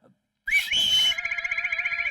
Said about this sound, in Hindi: उसने सीटी बजाकर जवाब ये दिया।